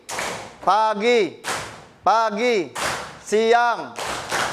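Pupils in a primary school classroom play a call-and-response clapping game: a teacher's voiced calls alternate with sharp, close bursts of group hand claps in a repeating pattern.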